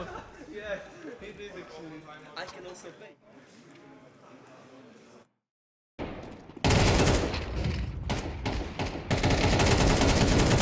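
Gunfire in the Counter-Strike video game with several rapid shots in the second half, loud and close, after a stretch of game sounds and a brief silence; an excited commentator's voice runs over part of it.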